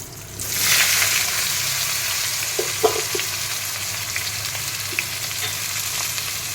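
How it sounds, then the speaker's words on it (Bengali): Pieces of jackfruit fry in hot oil in a pan, giving a steady close sizzle with a few soft stirring clicks and no talking. "এবার কাঁঠালটা ভেজে নেব।"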